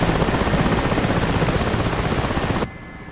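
Mi-8 helicopter during autorotation training, a loud continuous rotor and turbine roar with a steady broadband rush that cuts off abruptly near the end, leaving a faint hum.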